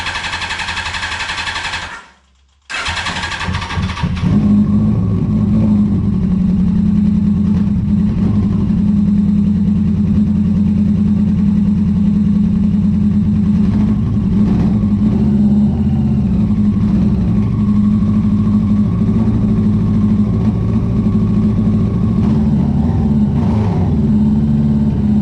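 A Yamaha R1 sport motorcycle fitted with a cheap aftermarket eBay exhaust cranks briefly, fires up and settles into a loud, steady, rumbling idle that runs close and continuous for the rest of the clip.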